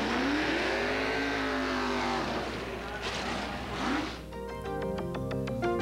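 Sportsman-class drag racing cars at the 1987 IHRA World Nationals in Norwalk, with loud, continuous engine roar and revving passes close by, a rising engine sweep near the end, and crowd or announcer voices mixed under the noise.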